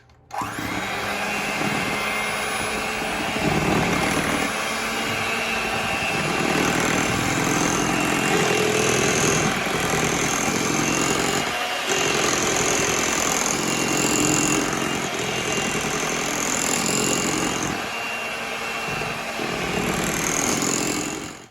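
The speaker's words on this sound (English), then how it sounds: "Then you're going to take your mixer and you want to put it on a low speed" An electric hand mixer runs steadily at low speed, beating banana pudding cake batter. The loud motor whir holds for about twenty seconds, with small shifts in pitch as the beaters move through the bowl.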